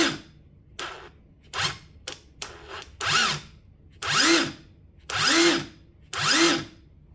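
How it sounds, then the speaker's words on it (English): A cordless mid-torque impact wrench, an Amazon Dong Cheng or Walmart Hyper Tough, spins up again and again in short trigger bursts. The early pulls are brief and choppy, and the later ones are longer, whirring rises and falls, close and loud, with no talking. "So when I press the trigger, so it takes like just, I don't know what you call, split second before the anvil starts to spin up"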